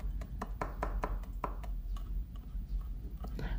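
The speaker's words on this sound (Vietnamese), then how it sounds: "Ớt thì mình cũng băm nhỏ nhỏ ra để nữa mình sẽ trộn vào trong dĩa sả nha quý vị." A knife minces chili on a cutting board for Vietnamese bitter melon braised with lemongrass and chili. Quick, light taps come close by in an uneven rhythm and sound fairly soft.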